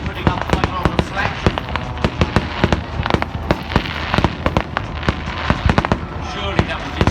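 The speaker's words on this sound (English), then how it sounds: "Now the ground defence is certainly putting up quite a lot of flak." Pyrotechnic ground-defence flak at a Red Arrows display at the Midlands Air Festival: a dense, loud barrage of cracking bangs and crackling bursts, continuous for several seconds with a steady roar beneath.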